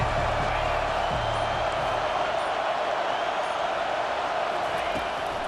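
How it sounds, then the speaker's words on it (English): Stadium crowd noise in EA Sports College Football 25, a steady, loud roar of a large crowd that holds without break, with no clear pauses or distinct cheers standing out. "This crowd bringing the energy and noise early."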